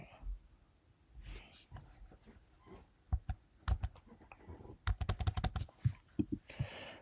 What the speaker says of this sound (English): we start typing Atlas